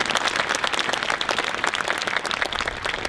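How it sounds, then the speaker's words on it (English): Dense, steady applause from a school parade audience clapping for cadets, filling the whole stretch at an even loudness with no talk over it. "can you give another clap to the cadets?"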